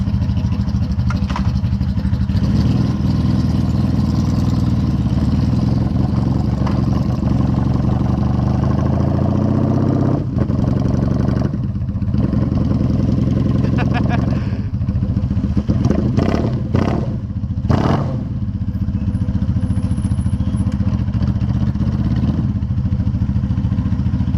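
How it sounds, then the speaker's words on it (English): A Honda Magna motorcycle engine idles with its gas tank removed, running on carburetor fuel alone: a loud, continuous, close rumbling idle with slight uneven clatter throughout and no talk. "these things can actually run for a long time without their gas tanks, like maybe like 30 minutes on idle"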